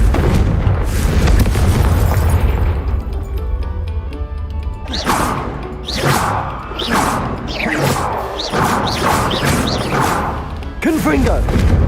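Confringo fire spell explosions from Hogwarts Legacy, a rapid string of loud booming blasts with whooshing bursts, one after another near the end, with a voice speaking over them.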